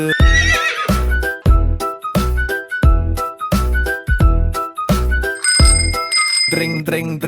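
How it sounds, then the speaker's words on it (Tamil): A Tamil children's rhyme about a horse cart plays a loud horse neigh over rhythmic clip-clop hoofbeats, set to bouncy music with ringing bell accents and a short whistle-like tone. "தாவி தாவி ஓடும் குதிரை வண்டி வருகுது"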